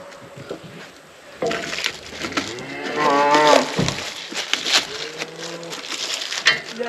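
A cow on a farm gives a long, loud, close moo that rises and wavers, followed by shorter lowing calls over faint farmyard background.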